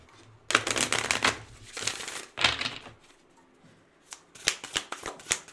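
Tarot cards being shuffled by hand in bursts of riffling and crisp card slaps, with a pause midway before several sharper snaps, close and fairly loud, with no talking.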